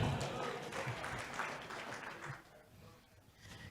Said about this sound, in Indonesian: Sekali lagi tepuk aplaus buat pemateri kita.